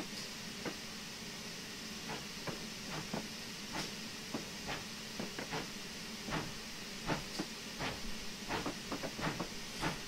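A GWR Pannier tank steam train in Train Simulator 2015 rolls steadily past on the Falmouth Branch with a low continuous rumble and hiss, punctuated by repeated sharp clanks and clicks of wheels over track joints.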